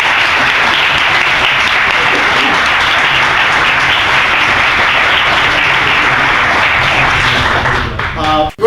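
An audience applauds steadily and loudly to welcome a professor before a lecture, with the clapping fading out near the end as a voice begins.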